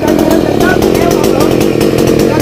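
Chainsaw cutting down a coconut tree that is still bearing fruit, a loud continuous motor drone running steadily throughout without pause, with voices mixed in underneath.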